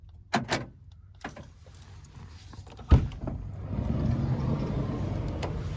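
A vehicle door opened in a McDonald's car park during a night of stealth camping: a few sharp clicks and a louder latch clunk, followed by a rising hum of outside air and traffic, close up.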